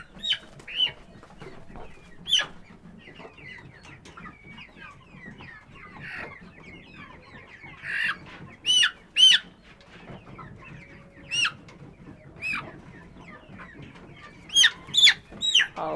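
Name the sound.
chickens clucking on a farm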